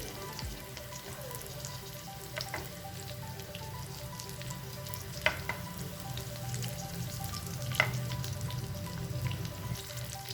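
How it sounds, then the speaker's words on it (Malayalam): Prawns frying in a pan over low to medium flame, a quiet, even sizzle with faint crackles and a few small pops, steady and distant. "ഓരോ സൈഡും ഒരു 3-4 മിനിറ്റ് ഫ്രൈ ചെയ്താൽ മതി കേട്ടോ."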